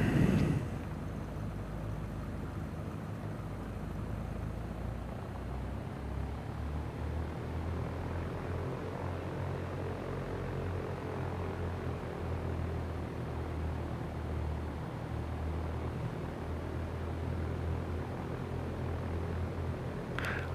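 A Cessna Skyhawk propeller engine idles steadily while taxiing in the X-Plane 11 flight simulator, a low continuous drone heard alone at moderate, even loudness throughout.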